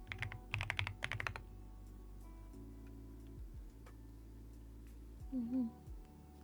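Bursts of rapid clacking keystrokes from a thocky custom mechanical keyboard with Marshmallow keycaps, soft and close, followed by a quieter stretch with low background hum and a faint voice near the end.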